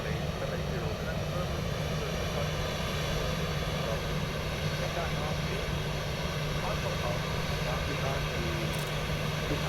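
Airliner jet engines hum at a low, steady whine while taxiing slowly on the ground in Microsoft Flight Simulator, a constant drone with a faint tonal note that runs unchanged throughout.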